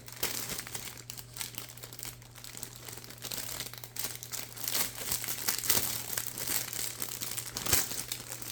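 Resealable plastic bags holding the tan plastic sprues of a RyeField Model 1/35 scale Sd.kfz Puma kit crinkle and rustle continuously at close range, with a low steady hum underneath and no talking.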